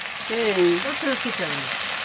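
Hilsa paturi fries in a pan with a steady, soft sizzle, while a voice talks over it close by.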